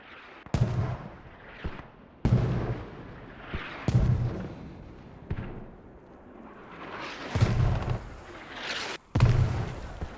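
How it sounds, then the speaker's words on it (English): Mortar shells slam into a hill in the Squad video game, a series of loud, booming blasts arriving every second or two, each with a sharp onset and a rumbling tail, with no talk over them. "Those mortars are landing right on where that rally is."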